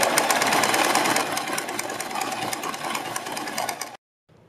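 A sewing machine runs steadily, stitching a fold of fabric near its edge for a neck design, a dense continuous mechanical whir that carries on for about four seconds, then cuts off abruptly.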